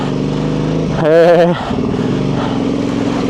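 Motorcycles, a KOVE 450 and a KTM 990, riding with a steady engine drone and one brief rising rev in the middle. A voice talks over the engines throughout.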